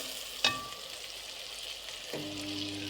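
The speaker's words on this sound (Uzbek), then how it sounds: "Piyozimiz sekin o'lishni boshladi, qovurilib. Endi sabzini solamiz." Onions and carrots fry in a pan with a steady, soft sizzle throughout, broken by a sharp clink near the start and a stirring scrape toward the end.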